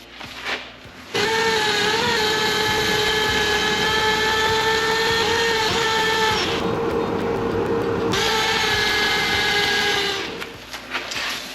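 A loud, steady power sander whine on a wooden vase runs continuously with strong tonal hum, briefly easing in the middle before resuming, then stopping near the end.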